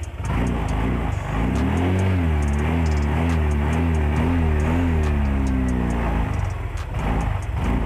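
A vehicle engine runs close by under throttle, its pitch rising and falling through several revs over a steady idle with a light ticking on top.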